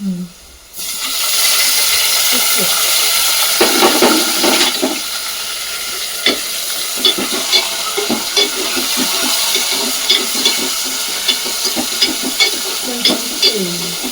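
Tomatoes drop into a hot frying pan and set off a loud, hissing sizzle, followed by ongoing frying with scattered clinks and scrapes from stirring and a few faint background sounds.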